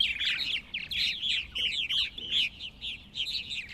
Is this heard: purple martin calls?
yes